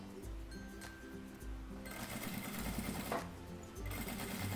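A sewing machine in an atelier stitches fabric for an organizer folder, a close, steady mechanical whirr with rhythmic needle clatter that pauses briefly and then resumes.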